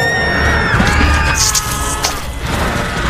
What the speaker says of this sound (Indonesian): Sontak saja mereka pun berteriak.